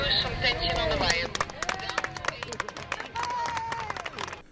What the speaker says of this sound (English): what we did hear in the background was a round of applause from many of there were hundreds of onlookers there